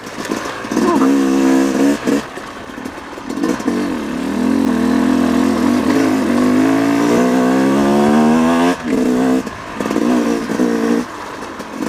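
A 2018 Yamaha YZ250X two-stroke dirt bike on a trail ride revs hard and climbs through the gears, its buzzy engine note rising in pitch with brief off-throttle dips, close and loud.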